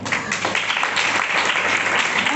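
An audience in a church claps continuously during a Mother's Day sermon, a dense, steady round of applause with a faint voice beneath it.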